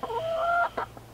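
A chicken at a backyard coop gives a short run of clucks: a drawn-out tonal note followed by two quick clipped clucks, close and clear over a faint low hum.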